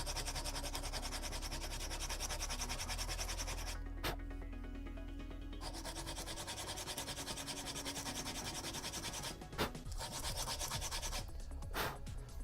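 Sandpaper rubs steadily by hand across a Sabine Wren helmet, a continuous close scratchy hiss with a couple of brief pauses and light knocks, no speech.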